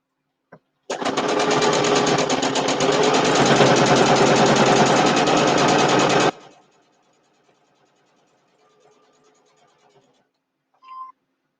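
A sewing machine stitches a quilt-as-you-go mug rug, running loud and steady for about five seconds with a rapid, buzzing stitch rhythm. It stops abruptly, then a few faint handling sounds and a short beep follow.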